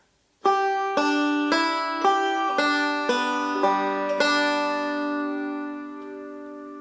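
A bright banjo picks a quick rolling pattern of notes, several even attacks then a final ringing chord that slowly fades.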